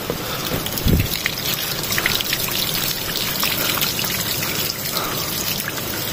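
Water runs from a tap in a steady, splashing stream with a brief low thump early on, constant and fairly close throughout.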